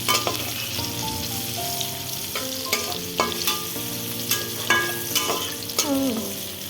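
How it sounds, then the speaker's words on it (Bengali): Young, watery banana slices fry in hot oil, throwing off a loud, steady sizzle with frequent sharp spatters and pops. The sound carries on throughout with no talking. "কলাটা আসলে কচি তো কলা থেকেও জল বেরোচ্ছে তাই খুব ছিটানিও উঠছে"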